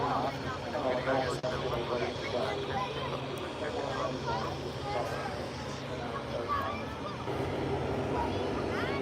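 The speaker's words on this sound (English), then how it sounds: "It's a big Airbus, that. Yeah, he's slowing down to let people get a photo." A large Airbus airliner slows down at Manchester Airport, its engines a broad steady roar at a distance. Bystanders chatter and murmur over the noise throughout.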